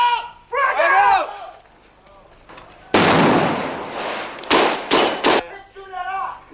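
A thrown frag grenade bursts in a loud broad blast, followed by several sharp gunshot-like cracks, with shouting voices before and after.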